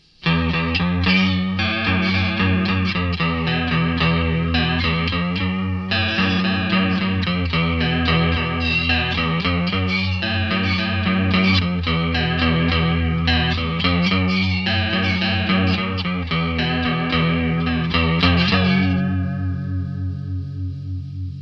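Electric guitar runs through a PastFx New Division chorus pedal, a shimmering, warbling chorused tone with slight grit, continuous strummed chords and riffs played loud and close, fading into a ringing sustain at the end.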